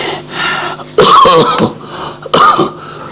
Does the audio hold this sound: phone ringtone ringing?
no